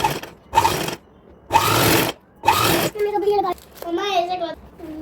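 Sewing machine stitching a little girl's outfit in three short, loud bursts separated by pauses, followed by a voice talking.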